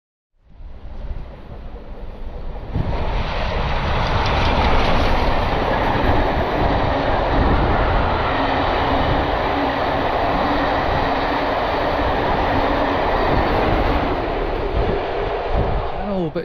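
A train rumbles past loudly and continuously, with a dense roar and rhythmic clatter of wheels on rails lasting throughout.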